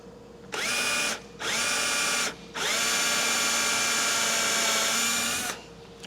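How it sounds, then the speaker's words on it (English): A countersink cutter in a power drill bites into holes in an aircraft wing on a Sling TSi kit build, with two short whirring bursts followed by one longer steady grind, loud and close, with no talking. "I hit it with the material. countersink cutter"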